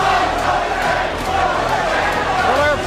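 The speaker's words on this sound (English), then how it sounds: "Crowd taking up a chant of Jose." A boxing arena crowd chants a heavyweight fighter's name, a dense, continuous roar of many voices with rhythmic swells, loud and close throughout.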